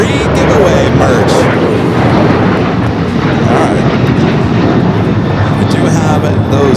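Air Premia Boeing 787 Dreamliner at LAX, a loud, steady broadband engine roar filling the whole stretch, close and continuous, with a voice talking over it.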